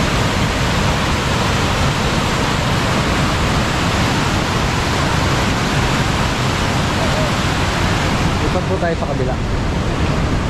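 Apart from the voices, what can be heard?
strong water flow rushing through a dam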